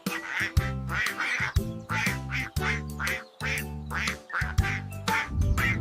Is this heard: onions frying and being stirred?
no